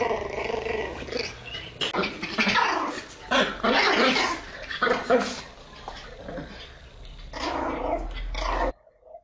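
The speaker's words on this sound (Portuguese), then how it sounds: "Esses cachorros aqui são são brabinhas" Several dogs growl and bark aggressively in bursts, loud and close, with rumbling snarls between the barks.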